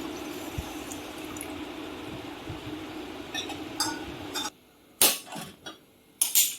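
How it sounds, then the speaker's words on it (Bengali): Water pours steadily onto sugar in a cooking pot while making peanut brittle, a close, continuous wash that stops abruptly, followed by a few sharp clinks and knocks of utensils against the pot. "দিয়ে দিচ্ছি জল। দু বাটি চিনি, 2 বাটি জল।"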